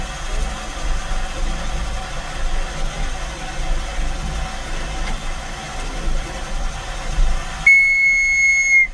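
Steam locomotive No. 2024 on a hot day, its engine giving a steady low rumbling idle at close range with broadband hiss, joined near the end by a sustained high tonal whine.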